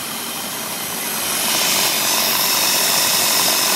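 A loud boat engine roars steadily, broadband and whooshing, growing a little louder partway through and then holding at full volume, with no exhaust noise after an intake manifold hole was repaired.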